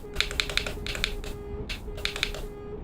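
Clicky buttons on a Moza truck sim wheel are pressed in quick bursts of sharp, close plastic clicks, with pauses between groups, over a faint steady hum.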